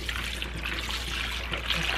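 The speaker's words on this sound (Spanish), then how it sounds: "Aquí les voy a poner un poco de agua" Water trickles steadily over peeled shrimp, their heads and shells set aside, in a Mexican home kitchen while making a shrimp and clam stew; a soft, continuous pouring close by with no talk.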